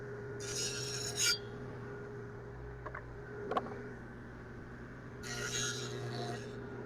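A table saw fitted with a dado stack blade cuts plywood: a steady motor hum runs throughout, broken by two short, harsh rasping bursts as the blade bites into the wood.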